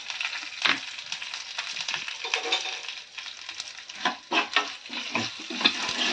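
Chana dal, black pepper and dried red chillies crackle and sizzle in hot oil while being stirred, with uneven bursts of popping and scraping close by.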